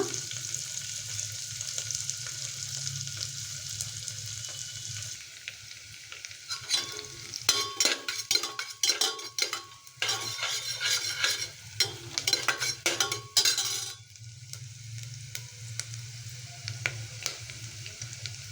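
Onion and ridge gourd fry in a pan with a soft continuous sizzle, then a stretch of busy stirring and spatula scraping before the gentle hiss settles again.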